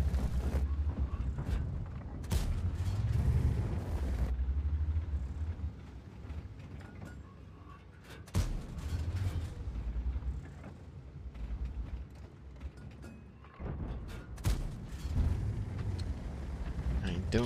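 Tank main guns firing in World of Tanks with a Centurion AX, several loud booming shots with sharp onsets and rumbling tails, separated by quieter engine and mechanical noise.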